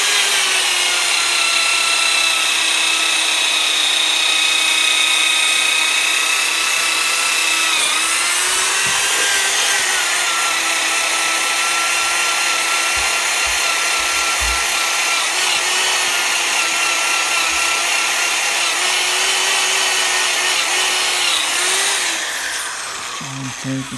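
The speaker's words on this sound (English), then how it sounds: "I keep on brushing, and apparently the brush is tough enough to bit by bit loosen it without scratching the pot." An electric drill spins a scrubbing brush against the bottom of a burned cooking pot, a steady loud whirring grind with a slight pitch dip partway through, running continuously for the full length before cutting off near the end.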